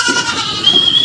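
A Boer and Anglo breed goat on a goat farm gives a brief, loud, nasal bleat, close by and alone.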